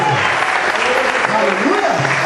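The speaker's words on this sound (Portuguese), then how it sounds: "aplaude o Senhor e celebre o seu grande e poderoso" A church congregation applauds during a pastor's consecration service, brisk clapping heard under loud voices and singing-like shouts across the short stretch.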